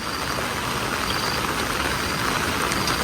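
Heavy rain pours down steadily in rural flooded farmland, making a dense, even hiss that never lets up, with a faint low rumble underneath.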